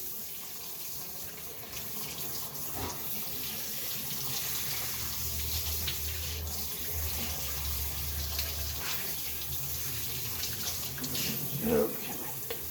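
Water runs steadily from a kitchen tap as peameal bacon gets a quick rinse, a soft continuous hiss with a few faint clatters at the sink.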